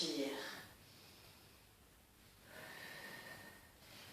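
Slow breathing during a gymnastics exercise: a sharp snorting inhale, then a soft exhale and another long breath, close and faint with no talk over it.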